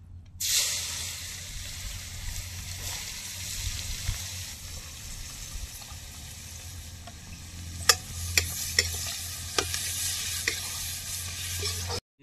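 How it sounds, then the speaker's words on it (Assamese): Chopped onions sizzle in hot oil with dried red chilies and cumin seeds in a home kitchen. A steady frying hiss runs throughout, with a few sharp spatula scrapes and clicks near the end. "এতিয়া মই সৰু সৰুকৈ যে কাটি লৈছিলোঁ পিঁয়াজ দিম ইয়াত"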